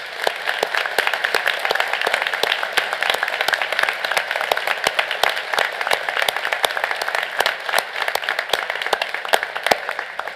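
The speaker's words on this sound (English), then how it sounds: "Now I ask everyone to join me in applauding this remarkable group of Methodist University graduates." An audience at the Methodist University 2023 graduation ceremony applauds the graduating class, sustained dense clapping from a large crowd that continues without a break for about ten seconds.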